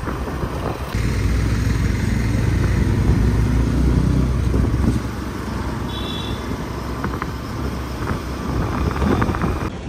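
Riding pillion on an Ola bike taxi motorcycle through traffic in overcast, rainy-season weather: a loud, steady engine-and-road rumble with buffeting wind noise runs throughout.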